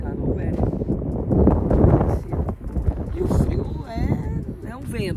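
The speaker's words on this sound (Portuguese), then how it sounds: "Vento, não é frio, né, Flávio?" Strong wind blows across an open outdoor spot, buffeting the microphone with a constant rough rumble while people talk over it.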